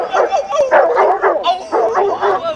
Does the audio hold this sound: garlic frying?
no